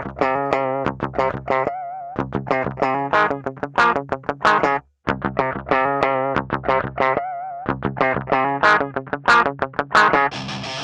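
Heavily distorted electric guitar through a preamp plugin plays choppy, chugging riffs with short gaps between phrases, loud and saturated with a buzzy, processed edge.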